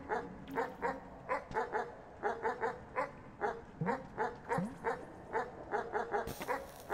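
A video-game dog in Animal Well barks in quick repeated yips and short bursts, steady rhythm with a couple of whimpering slides and a sharp pop near the end.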